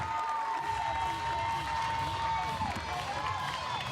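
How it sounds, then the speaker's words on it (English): Kenosha Bradford fans at a state softball game keep up a steady crowd roar with cheering and scattered claps, broad and continuous throughout, while a faint tonal whistle-like line drifts over the noise. "There you see the crowd, the Kenosha Bradford crowd anticipating this final out."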